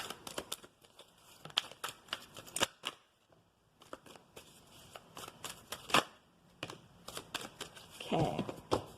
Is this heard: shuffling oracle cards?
yes